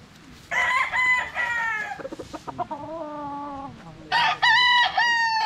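A banded stag rooster crows loudly and close, with two long crows bracketing a stretch of broken clucking calls, and no talk over it.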